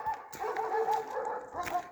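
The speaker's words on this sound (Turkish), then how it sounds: "Demek ki içerideki köpekler bağırıyor arkadaşlar" Dogs bark and yip from somewhere inside, a run of short, muffled calls with some whimpering, moderately loud and continuing for a couple of seconds.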